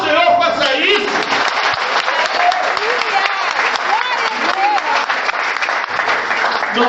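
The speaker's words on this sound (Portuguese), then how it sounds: "Que aplaudir o Senhor, faça isso." Church congregation applauding during a sermon, a loud sustained wash of clapping with voices and cheers mixed in.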